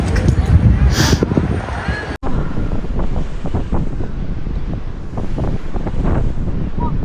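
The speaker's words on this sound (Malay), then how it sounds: "Hari ni angin kuat gila ya" Loud, gusty wind buffets the microphone continuously on a beach, with surf-like rushing of waves underneath and a voice speaking over it.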